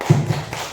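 A group in a classroom or training session gives a rhythmic salute clap, a short burst of claps with low thumps, fairly close and alone, lasting under a second.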